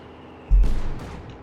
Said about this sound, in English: we've got a Katyusha barrage here from Zodiac